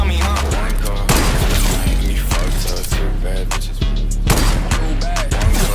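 Rapid gunfire from a Fortnite match, with dense bursts of shots and booms layered continuously throughout, loud and close.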